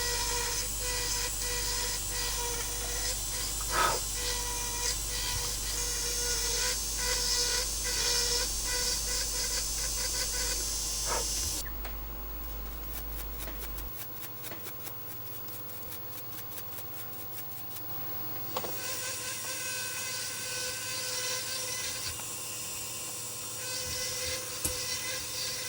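A conical dental polisher works a telescopic crown with a continuous high whine and hiss, the pitch and texture shifting partway through as the tool's contact changes, close and steady.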